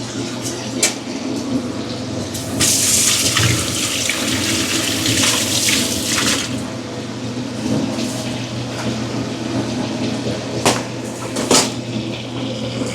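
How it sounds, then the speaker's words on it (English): Rice being washed under a running kitchen tap in a Jamaican restaurant kitchen, a steady close hiss of flowing water with splashing swells and a few sharp clinks, no talk. "So you just wash your rice now."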